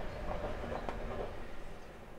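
Trains pass nearby as a low, continuous rail rumble with faint clattering, moderately quiet and steady throughout, with no voices.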